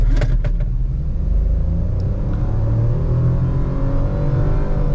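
A Renault Kiger in sports mode launches hard from a standstill, its engine a loud, steady, close roar that builds in rumble as the car accelerates.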